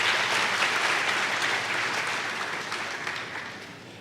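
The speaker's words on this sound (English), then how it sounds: "I think we should give them another round of applause for such talent." Audience at a university commencement ceremony applauding student performers, a broad, steady roar of many hands clapping in a large hall, sustained and gradually tapering in loudness.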